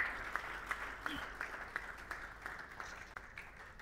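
A church congregation claps together during a French-language worship service, a steady wash of applause with sharper individual claps standing out, filling the room with no voices clearly heard above it.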